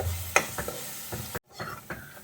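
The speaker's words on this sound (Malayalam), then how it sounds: "ഒന്ന് ഇളക്കി കൊടുക്കാം" Spice powders of coriander, chili and turmeric stirred into a mushroom curry in a pan, with a few soft scrapes and light sizzling, broken by a brief silent gap.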